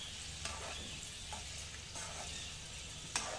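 Bitter gourd and chilli sautéing in a pan for a pickle, a soft steady sizzle with a few scraping stir strokes now and then, fairly quiet and with no talk.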